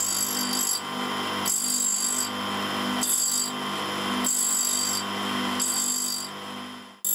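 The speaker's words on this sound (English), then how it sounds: "I'm just using the side of the wheel to grind a flat so the ball bearing can locate to lock the tool in position" The side of a grinding wheel grinds a flat onto a steel boring bar tool, a loud continuous rasping whine that swells in repeated passes as the tool is pressed on and eased off.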